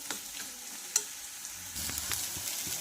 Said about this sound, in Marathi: आता छानपैकी याला असं फ्राय करून घ्यायचं आहे तर छान असं आपण फ्राय करून घेऊया